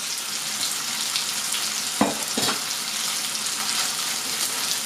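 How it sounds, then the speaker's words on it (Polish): Onion frying with white sausage in a pan over medium heat, a dense continuous sizzle with a couple of short spatula scrapes midway as it is stirred, no voices. "Mieszamy tak, żeby nam się nic nie przypaliło i na średnim ogniu podsmażamy kilka chwil"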